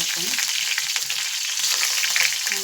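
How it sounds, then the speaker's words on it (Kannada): Mustard seeds and cumin frying in hot oil, a loud close sizzle with crackling pops and some stirring, no talking. "ಸಾಸಿವೆ ಹಾಕೊಂಡು ನೋಡ್ರಿ ಆಮೇಲೆ ಜೀರಿಗೆ ಹಾಕೊಂಡ್ರಿ"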